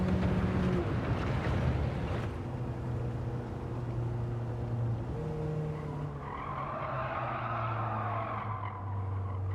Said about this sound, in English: Oh, screechy wheels, screechy tyres even